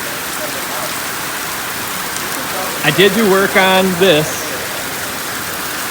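Heavy rain pours down in a backyard where a pool is filling, a dense, steady hiss that stays loud throughout, while a person talks briefly over it in the middle.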